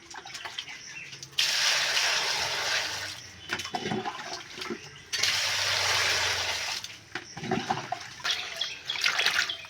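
Water lily stems being washed under running water in a kitchen: two long, loud gushes of flowing tap water with splashing, separated by quieter handling and dripping between them.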